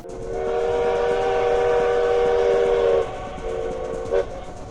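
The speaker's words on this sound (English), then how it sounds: "he made sure the Federals knew it had arrived by blowing the whistle repeatedly" A steam-era train whistle sounds in long sustained blasts, then a shorter blast and a brief final toot, loud and somewhat distant over a steady rumbling background.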